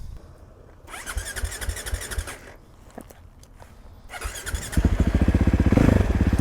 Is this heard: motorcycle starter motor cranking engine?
yes